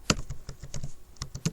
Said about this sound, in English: So we can check our Git version by typing git version.